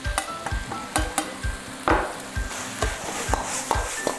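Basil stir-fried with minced pork in a hot pan, with brisk, rhythmic scraping and tossing strokes over a continuous sizzle.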